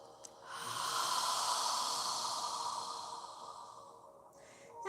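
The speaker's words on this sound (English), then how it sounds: "we're going to inhale through our nose and exhale through our mouth" A single long, close exhale through the mouth during a yoga breathing exercise, a soft breathy hiss that swells and fades over several seconds, with no talking.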